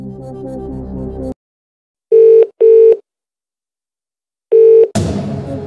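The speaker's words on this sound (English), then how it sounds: "Okay, let's phone a friend." The phone-a-friend call in the Who Wants to Be a Millionaire 2nd Edition DVD game rings out as three loud, steady electronic tones with gaps between them, after music and before a burst of noise.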